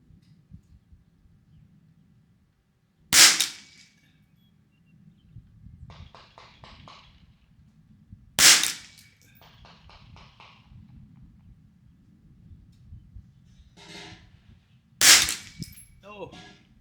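A Ruger 10/22 rifle fires test ammunition: three sharp, loud, close shots spaced several seconds apart, with faint handling clicks between them and no talk.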